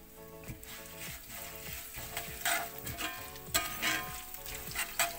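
Black pepper and bay leaves dry-roasting in a pan, giving a soft close crackle and scraping stir with small irregular clicks from the spices moving against the metal.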